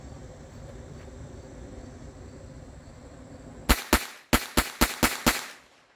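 A Galesi .25 ACP pistol fires a rapid string of about seven sharp, loud shots in quick succession after a few seconds of quiet outdoor background.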